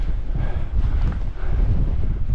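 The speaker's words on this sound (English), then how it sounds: "Oh, it's windy, like." Strong gusty wind buffets the microphone at a rain-soaked wild camp in the Lake District, a loud continuous low rumbling roar with brief lulls, close and constant, with no talk.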